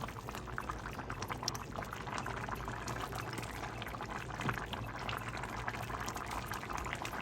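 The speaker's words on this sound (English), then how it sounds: "it boils a little bit harder when you have your lid on" Leftover turkey and broth noodle soup boils hard in a lidded pot, a continuous close bubbling and gurgling with fine crackles, steady and fairly quiet throughout.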